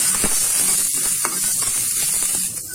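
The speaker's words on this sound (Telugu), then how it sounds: "ఆనియన్ చిన్నగా కట్ చేసుకుని యాడ్ చేస్తున్నా. ఫ్రై అవ్వాలి." Chopped onion with green chili and curry leaves frying in hot oil for potato bonda filling, a steady close sizzle with occasional stirring clinks and scrapes throughout, no talking.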